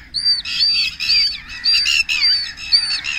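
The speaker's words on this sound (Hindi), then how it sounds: "सारे परिंदे इकट्ठे हो गए।" A flock of birds squawks and chirps in repeated, overlapping bursts during a violent rainstorm in Punjab, with the calls loud and close and continuing steadily against a low rumble of wind and rain.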